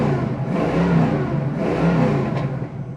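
A 1968 Ford Mustang with a 351 Windsor V8 and five-speed manual revs and pulls hard close by, a deep, throaty engine note swelling and easing in waves for the whole stretch.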